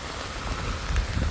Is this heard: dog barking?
no